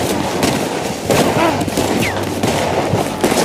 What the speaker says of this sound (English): I told you I could shoot a gun, didn't I?